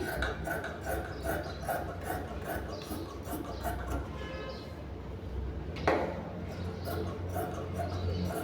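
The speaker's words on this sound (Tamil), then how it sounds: "இப்போ நான் கை வந்து கட் பண்ணிக்கிறேன் ஸ்லீவ் கட் பண்ணிக்கிறேன்" Scissors cutting the sleeve from blouse fabric, a steady close rubbing, rasping snip texture running throughout, with a brief sharper crunch near the end.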